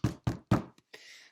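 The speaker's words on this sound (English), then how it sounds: "He bangs on the door." Three firm, evenly spaced knocks land on a house door, each ringing briefly before the next, followed by a faint tap and a soft rustle, with no talking.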